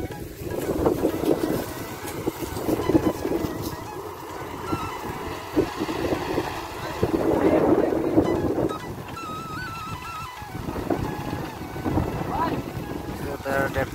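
A tractor engine running in a farm field, a steady rumbling drone with wind buffeting the microphone, while people talk over it now and then.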